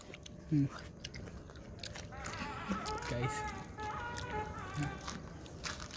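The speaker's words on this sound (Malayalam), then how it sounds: "ആ ഇനി ചവയ്ക്ക്" Close-up crunchy chewing and biting sounds, irregular and moist, with a few brief voice murmurs in the background.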